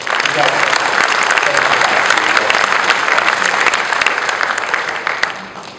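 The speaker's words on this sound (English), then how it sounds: "Let's give them a round of applause." Loud, dense applause from a large audience at a corporate event after teams are recognized, sustained and steady before tapering slightly at the end; a faint voice may be present under it.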